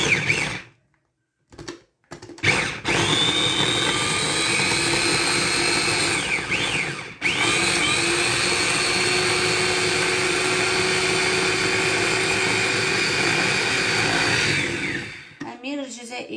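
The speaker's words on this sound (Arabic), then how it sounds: "سمحوا لي دقيقة برك نرحي البصلة" Electric grinder chopping onion and garlic, a loud continuous whirring motor that starts and stops briefly, then runs steadily before cutting out near the end.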